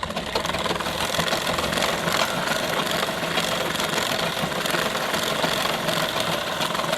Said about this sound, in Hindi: पहले इस तरह ऊपर से मशीन चलाएंगे अस्तर पे